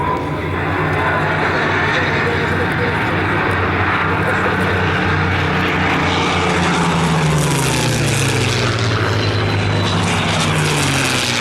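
A Merlin-engined P-51 Mustang flies past at the Flying Legends airshow, its propeller engine roaring loud and steady throughout with a pitch sweep as it passes, crowd and voices faintly underneath.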